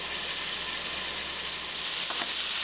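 Pork chops frying in a pan, a steady bright sizzle and hiss that holds throughout and swells slightly near the end, close and continuous with no voices.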